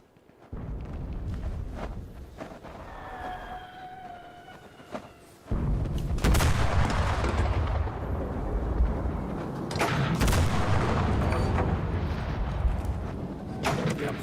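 Artillery fire in the video game Enlisted: heavy booming blasts and rumbling impacts, loud and close, a brief whistling tone before a big burst partway through, followed by continuous roaring explosions and further hits.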